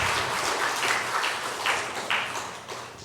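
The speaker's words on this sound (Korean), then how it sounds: "근데 박수 소리가 그거밖에 다시 박수" Congregation applauding during a Sunday church service, a soft, even patter of many hands clapping for a few seconds with no talk over it.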